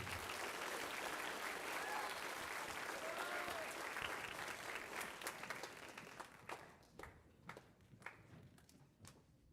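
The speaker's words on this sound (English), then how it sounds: "One more round of applause for our 10th grade." Audience at a spring band concert applauds the 10th grade award winners: dense, steady clapping for about six seconds that thins into scattered, separate claps.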